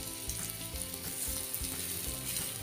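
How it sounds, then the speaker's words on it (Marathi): Prawns and garlic cloves frying in hot oil, a continuous close sizzle and spatter with light stirring, no voices. "आता जेवढी कोणबी राहील तेवढी आपण फ्राय करून घेऊया"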